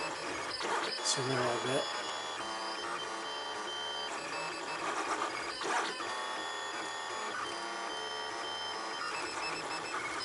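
3D printer printing brackets for a duck house, a continuous whirring with shifting stepper-motor tones and brief clicks, while someone talks over it.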